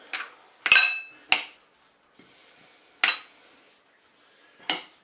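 A spoon knocks against a bowl while potato, tuna and mayonnaise salad is mixed, giving about five sharp, separate clinks with quiet gaps between them and no talking.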